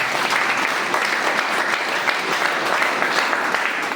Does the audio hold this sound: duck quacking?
no